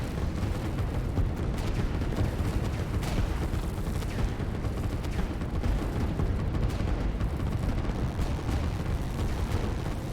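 Artillery in the strategy game Line War pounds away in a continuous, rumbling barrage of overlapping booms and distant blasts, steady and dense with no voices.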